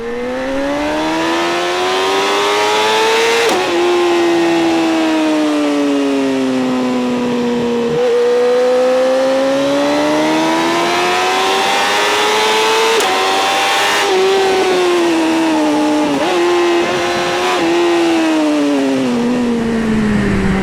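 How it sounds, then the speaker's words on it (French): BMW S1000RR 2012 sport bike accelerating hard in first gear, its loud engine note climbing and dropping in sweeping rises with brief breaks between surges, close and dominant throughout. "Ce qu'on va faire par contre, c'est un test d'accélération en première."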